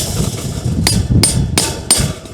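Four sharp metallic strikes of a cold chisel hammered through wire mesh, evenly spaced and close by, each ringing briefly over a low background rumble.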